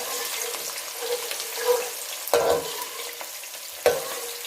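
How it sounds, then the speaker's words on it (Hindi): Capsicum fries in very hot oil, a steady bright sizzle close up with a few sharper crackling bursts and stirring clinks spaced through it, and no voices. "गरम ऑयल में ही शिमला मिर्च डालें"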